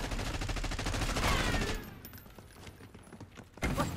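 Rapid automatic gunfire in Call of Duty Black Ops 6, a loud dense burst that drops away to scattered distant shots, then a final loud volley.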